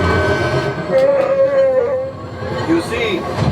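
A train sound effect on the Millennium Falcon Smugglers Run ride: a rumbling rolling din with a wavering, howl-like whistle tone rising over it, fairly loud and close.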